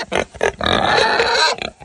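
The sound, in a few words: pigs grunting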